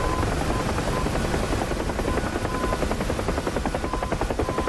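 Helicopter in the DCS World flight simulator, flying over a Syria map at night: a loud, continuous rotor chop with a fast regular thumping pulse and engine whine, steady throughout and alone.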